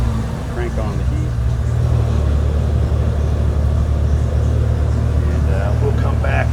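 A Jeep Wrangler TJ with a 4.0L engine idles at operating temperature, giving a steady, loud low rumble with even harmonic hum throughout, close by, with faint background noise over the engine.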